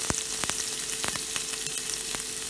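Mustard, fenugreek and cumin seeds fry with chili in hot oil, making a dense, crackling sizzle close by. Sharp pops from the bursting seeds cut through it at irregular moments.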